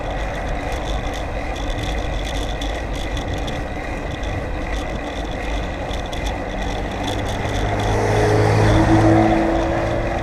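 Steady road traffic rumbles past a bicycle commuter on a big, busy road, a continuous loud wash of engine and tyre noise with a heavier vehicle swelling closer and louder near the end.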